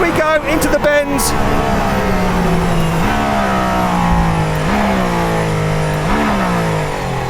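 A Mercedes-AMG One on the Nürburgring track screams at high revs as it pulls hard, with several distinct upshifts briefly dropping the pitch before it climbs again. The engine is loud and close throughout.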